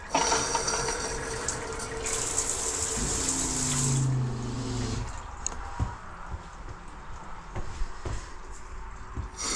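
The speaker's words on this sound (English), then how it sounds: "Or you turn this valve like this, rain head." Water gushes steadily from a rain shower head inside a converted bus, a broad hiss that changes as a valve is turned and then settles into a softer, uneven flow with occasional drips and knocks.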